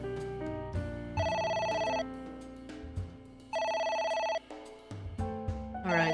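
A telephone rings in the AI: The Somnium Files video game, with two sustained electronic ring bursts standing out over background game music.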